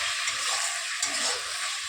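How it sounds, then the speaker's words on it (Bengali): Spice masala for egg curry sizzles and fries steadily in a pan while being stirred, with a dense close hiss and soft scraping strokes and no voices. "আর এই যে মশলা কষাচ্ছি"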